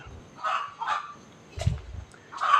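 A chicken clucks in short, separate bursts, a few low-pitched calls spaced apart with quiet pauses between them, heard fairly close.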